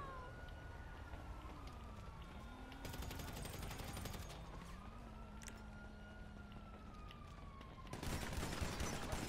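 Machine gun fire in a shooter game, with sustained rapid bursts rattling over a wailing siren and busy background noise, swelling into a loud burst near the end.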